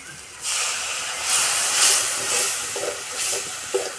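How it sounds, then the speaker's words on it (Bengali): Water poured into frying spices (chili powder and cumin) for a potato and pea curry, a loud hissing sizzle that surges up and then fades in uneven bursts, alone and close. "এবার দিয়ে দেবো অল্প একটু জল"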